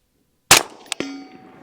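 Rounds fired at night ring off a steel target: a sharp close report followed by two quick metallic clangs that hang briefly in the quiet.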